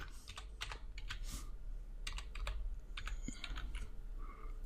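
Close, quiet typing on a computer keyboard: irregular bursts of crisp key clicks with short pauses between groups of strokes.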